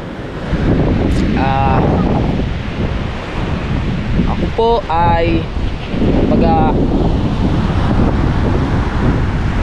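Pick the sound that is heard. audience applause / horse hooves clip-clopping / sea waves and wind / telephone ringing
sea waves and wind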